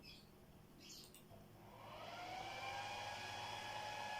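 An electric motor driven by speed and acceleration settings from a control program whines up from quiet, its rising tone settling into a steady hum that grows louder and holds.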